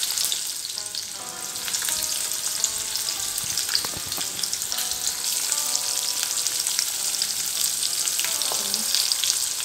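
Onions and curry leaves fry steadily in a hot pan for a capsicum egg gravy, a loud, continuous close sizzle with occasional stirring scrapes and clinks.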